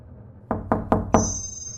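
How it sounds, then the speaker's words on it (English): Four firm knocks on a wooden door, evenly spaced and close, followed by a faint high ringing tone. "the knock came at my door"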